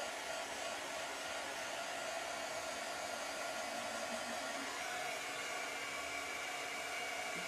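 A hair dryer blows steadily on a large glass palm-heart jar being decorated as a craft project, a continuous close whooshing roar that holds even throughout, with no talking.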